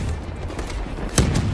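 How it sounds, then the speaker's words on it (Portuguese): Gunfire in Call of Duty Black Ops 3 beta during a capture the flag match on the Combine map, a few sharp shots with one loud close report near the end amid steady game noise. "Ficou atirando igual um louco até acabar."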